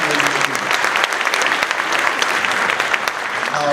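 A school winter concert audience gives a full round of applause, a loud, continuous wash of clapping close by with occasional voices mixed in.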